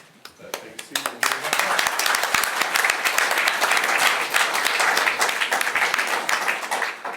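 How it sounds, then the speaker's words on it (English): Spontaneous applause from an audience at an architecture student critique event, starting with a few scattered claps and quickly swelling into sustained, dense clapping that fills the room for several seconds. "My script has it to ask you for a round of applause, and it was wonderful that it was spontaneous."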